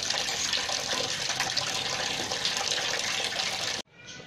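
Water runs steadily from a tap in a home kitchen setting, a constant close splashing hiss that stops abruptly near the end, leaving a faint trickle.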